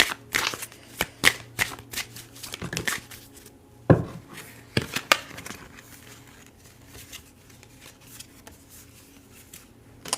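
Tarot cards being handled and pulled from a deck, with a series of sharp close card snaps and shuffling flurries early on, then quieter rustling and handling.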